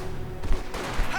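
Gunfire from the Company of Heroes 2 strategy game during a 2v2 match comes as a dense fusillade of rapid overlapping shots. Loud bursts swell midway and then taper off.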